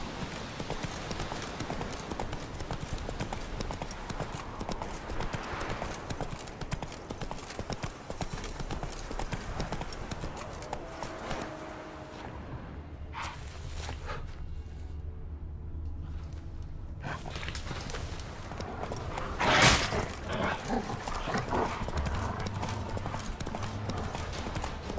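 Hooves of a galloping horse in The Witcher video game, a steady rapid clip-clop rhythm throughout, with a loud accent near the end.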